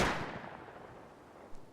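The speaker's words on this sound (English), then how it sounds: "Now we'll just go back to the bolt action. And the bullet to the chest again." A single bolt action rifle shot in the survival game Rust, a loud sharp blast at the start decaying into a rumbling echo, followed by a faint small click near the end, no talking.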